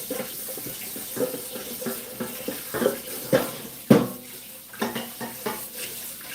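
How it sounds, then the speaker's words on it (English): Water running into a kitchen sink while a pan is scrubbed, a steady faint flow with occasional knocks and clatters of the pan against the basin. "we gotta clean out this pan."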